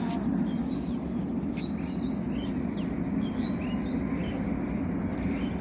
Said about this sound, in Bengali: এই যে আমাদের মাঝে উপস্থিত হলো একটি ট্রেন আসতেছে